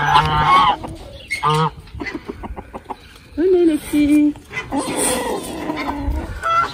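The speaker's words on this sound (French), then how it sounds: "je vous présente mes poules et mon coq" Hens cluck and a rooster calls among them, close by on an educational farm, while a person speaks to the birds in short phrases, calling them to eat.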